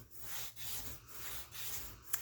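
A sheet of paper is folded by hand for a folio journal, making soft, rhythmic rubbing and creasing strokes, close and quiet, with a small tap near the end.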